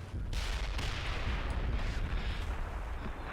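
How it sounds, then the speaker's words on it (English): Continuous rumbling artillery barrage in the Combat Mission Black Sea war game, a dense wash of distant booms and blasts rolling without pause. "there comes that fire mission"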